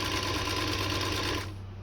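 A Singer 221 Featherweight sewing machine stitches at a slow, steady pace, its close, even mechanical whir running continuously before easing off near the end.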